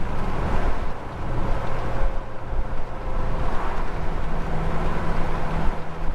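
A Holden HK car's engine runs steadily while driving, a continuous loud rumble with road and wind noise and no talking.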